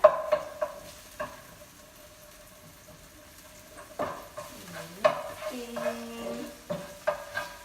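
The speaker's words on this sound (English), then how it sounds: "we just need to mix these around about a minute or so. Go, let them cook through" Food being stirred around a pan as it cooks through, a soft, gentle sizzle under intermittent knocks and scrapes of a utensil, with a few louder clacks, close by and without talking.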